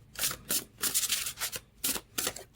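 Oversized tarot cards being shuffled by hand, a run of about five quick riffling bursts with short gaps between them, heard close and alone.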